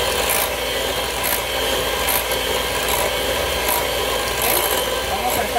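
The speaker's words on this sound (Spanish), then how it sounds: "ahora sí ya empezamos a batir" Cake batter for mini cakes beaten in a bowl, a close, steady scraping churn with faint rhythmic strokes recurring about once a second.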